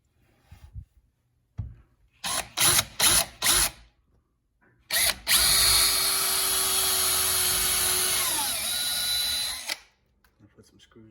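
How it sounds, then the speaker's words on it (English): A power drill whirs in four quick bursts, then runs in one long steady spin before stopping, close and loud, pre-drilling holes in pallet wood. "Okay, I'm pre-drilling some holes now."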